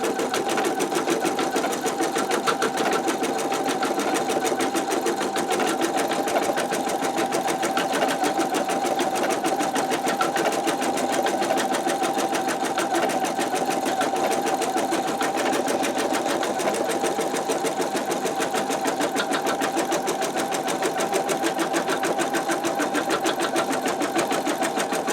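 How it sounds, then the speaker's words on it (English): An embroidery machine stitching a design with a MagnaHoop magnetic hoop runs loud and close, with a fast, even mechanical needle rhythm that continues without a break. "I'm going to go ahead and let it continue stitching"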